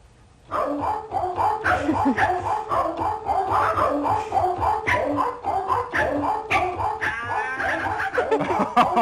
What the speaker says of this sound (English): makes a scale out of the dog barking